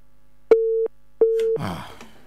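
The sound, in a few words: telephone busy signal on a call-in phone line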